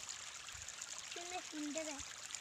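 Water flowing in a canal in Himachal, a faint steady trickling rush in the background while a voice and other voices chatter over it.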